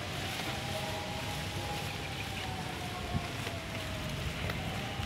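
Strong wind blowing outdoors at a street corner, a steady, fairly faint broadband rush with low rumble that continues without pause.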